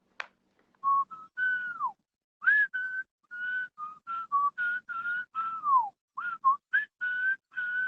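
A person whistles a melodic tune in short, separate phrases with brief pauses between them, close and clear with no other sounds.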